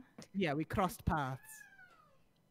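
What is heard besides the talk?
pet cat meowing during a game stream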